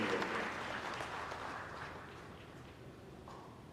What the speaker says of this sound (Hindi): तो इसके लिए आप सब लोग जोर से तालियां बजाइए